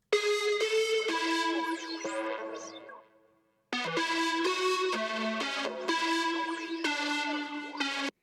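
A bright synth lead plays a melodic line, each note trailing into repeating delay echoes, with a short gap before the phrase resumes.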